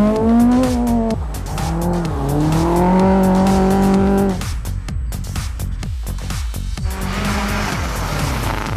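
The number 3 Toyota rally car attacks a rally stage at the Secunda Rally, engine revving hard through rising and falling gear pulls, then tires squealing and skidding with gravelly bursts; loud and close.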